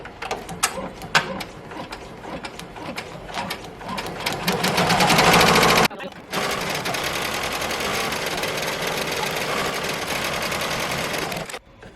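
A Ricoma EM1010 embroidery machine stitches a monogram initial onto an in-the-hoop coaster. Its rapid mechanical clatter builds to a loud, steady whir, breaks off briefly, then runs on as an even, humming stitch close by.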